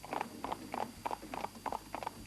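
Horses' hooves clip-clopping in a steady walking rhythm while pulling a carriage, fairly close and moderately quiet, with no talking over it.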